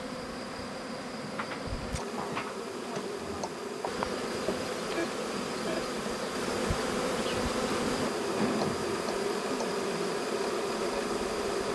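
Honeybees buzz densely around beehives at an apiary, a steady close drone of many insects with individual bees whizzing past, continuous throughout.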